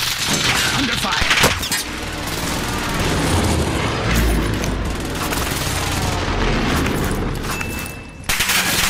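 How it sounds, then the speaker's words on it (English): A precision airstrike in Call of Duty Warzone on Rebirth Island brings heavy, overlapping booms and crackling gunfire in a dense, loud barrage, with brief game voice lines in between. "Be advised, friendly precision airstrike inbound."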